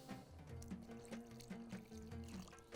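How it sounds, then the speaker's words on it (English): Water poured into a pot of saluna, a Bahraini stew, as a faint, steady trickling splash at close range, with no talk. "Now I'm going to add a little bit more of water."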